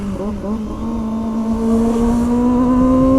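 A big motorcycle of around 250 cc revs up, its engine note rising and holding steady loud and close, with a brief blip of throttle at the start.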